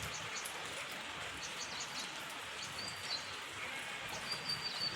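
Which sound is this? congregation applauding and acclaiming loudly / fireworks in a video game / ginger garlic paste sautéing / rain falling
rain falling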